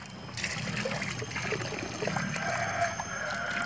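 Water runs steadily into the inlet of a non-electric, high-power water pump set on flat ground, a continuous trickling, pouring flow heard up close with no talk.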